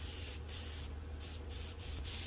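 A California Air Tools air compressor runs close by as a steady loud hiss and drone, with several short breaks where spray bursts stop and restart.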